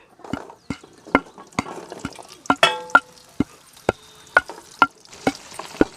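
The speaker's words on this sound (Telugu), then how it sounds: "ఆయిల్ బాగా వేడైంది మునక్కాయలు వేసుకుంటా ఉన్నా" Moringa drumstick pods dropping into hot oil send out sharp crackles and pops at a fairly regular pace, close and distinct over a faint sizzle, with no talking.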